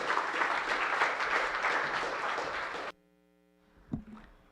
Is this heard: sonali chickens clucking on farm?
no